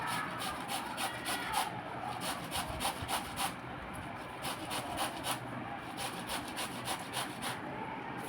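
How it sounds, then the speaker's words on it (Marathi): Cucumber being grated by hand on a kitchen grater: steady, rhythmic rasping strokes, close and fairly quiet, repeating evenly throughout with no talking. "काकडी किसून झालेली आहे."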